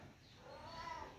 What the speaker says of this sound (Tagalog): Dito din yung pusa namin.